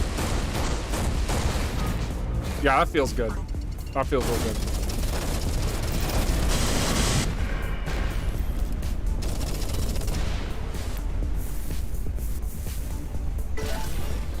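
A flak cannon fires in the space shooter Everspace 2, loud repeated bursty blasts with crackling explosions continuing steadily beneath someone talking over the gameplay.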